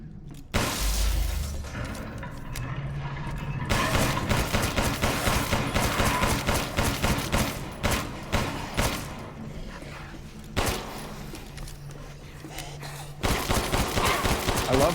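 Gunfire in Resident Evil 8 rattles off in fast, repeated bursts over fifteen seconds, loud and close, with brief pauses between volleys, heavy impact thuds, and low game music underneath.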